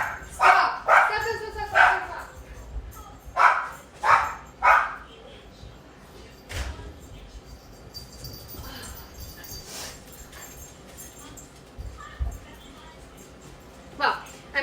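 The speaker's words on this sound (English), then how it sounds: "it wasn't my husband making my dogs bark" Several dogs bark in loud bursts indoors, a cluster of quick barks early on followed by scattered yips and whimpers with quieter gaps between.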